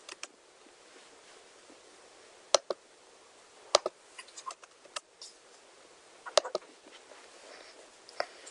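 A computer mouse gives scattered, sharp single and double clicks, faint and intermittent over near silence, with no speech.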